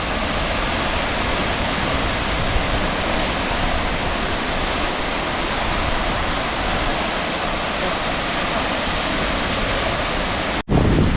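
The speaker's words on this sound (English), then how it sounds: "Look at them waves." Steady, roaring surf of ocean waves washing continuously against a rocky coast at Quiberon, Brittany, France, loud and close, with a brief break near the end.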